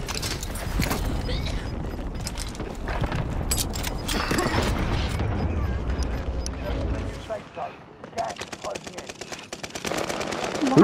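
Rapid gunfire bursts in a multiplayer shooter game crackle loudly and almost continuously, thinning out toward the end, with a voice talking over the shots.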